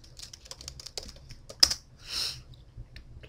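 Keys clatter on a computer keyboard as a password is typed, a quick run of close, crisp taps with one sharper strike and a brief hiss-like burst near the end, no talking.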